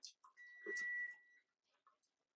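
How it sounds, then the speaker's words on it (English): A kitchen cooking timer gives one sustained electronic beep lasting about a second, close and fairly clear, with faint clattering around it before the room goes quiet. "kind of hate the timer noise"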